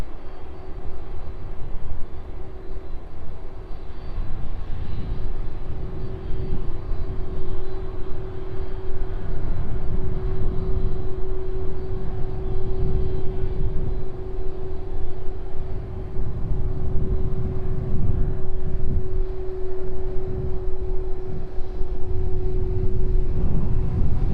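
Boeing 747 cargo jets at East Midlands Airport's DHL apron in the evening make a loud, continuous engine roar with a steady tonal whine that holds throughout.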